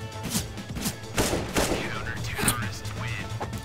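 Gunfire in CS:GO played with PS5 motion controls: rapid bursts of loud shots and short automatic volleys, with players talking excitedly over the shooting.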